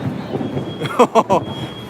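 Thunder rumbles through a steady low roar on a rainy day at Universal Studios, with a few short, louder bursts clustered near the middle of the clip.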